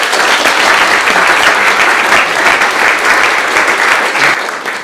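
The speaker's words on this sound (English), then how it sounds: "So let's start with a round of applause for our panel." Sustained applause from an audience at a London climate talk panel event, dense and steady throughout before tapering slightly at the very end.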